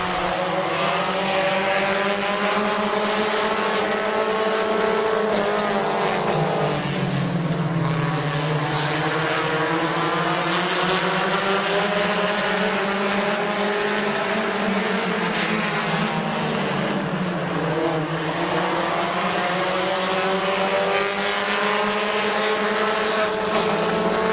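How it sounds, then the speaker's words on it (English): Race cars roar around the Midvale Speedway oval, a loud continuous engine drone that rises and falls in pitch as the cars sweep past. "Stresky in the 21A down the back straightaway, going to get to the inside of Corey Heron in turn number 3"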